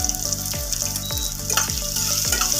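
Shallots sizzling and frying steadily in hot oil with fennel seeds in a pan, with a few sharp stir scrapes at regular intervals and a continuous bright crackle throughout, close and moderately loud, no talking.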